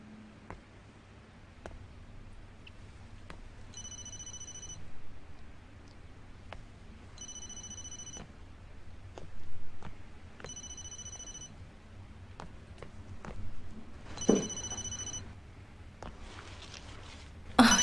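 Mobile phone ringtone sounding in short repeated bursts of a bright electronic tone at regular intervals, fairly quiet against a soft indoor background with faint ticks and clicks.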